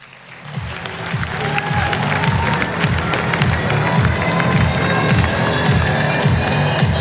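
A crowd at the 2023 FECAFOOT Ballon d'Or ceremony in Cameroon swells into loud, sustained applause and cheering, building quickly after a quiet start and staying dense throughout, with rhythmic music pulsing underneath.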